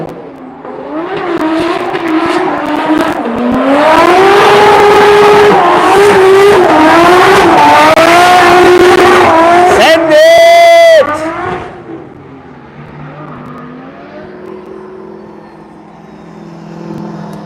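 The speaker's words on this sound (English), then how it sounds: "I can hear CH Loizo doing donuts" A drift car doing donuts at a drift practice in Cyprus, its engine revving hard at full throttle in loud, wavering surges with tire noise, then dropping to a quieter idle.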